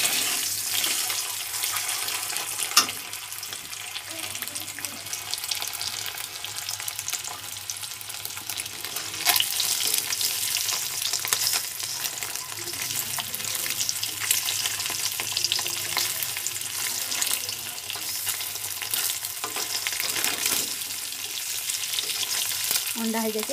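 Eggs fry in a pan for Odia egg curry, a steady close sizzle and crackle that continues throughout, with occasional stirring scrapes.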